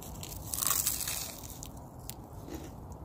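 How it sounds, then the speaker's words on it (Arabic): Crisp bites into a flaky Portuguese custard tart (pastel de nata), eaten outdoors in a park: a burst of close crunching early on, then softer chewing crackles that fade. "اسمعوا كده صوت القرمشه معايا"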